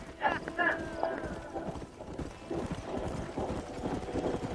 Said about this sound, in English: Feels easy to ride a horse